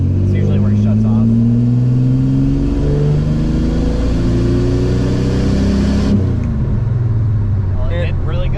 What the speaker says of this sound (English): I'm gonna try third gear pull here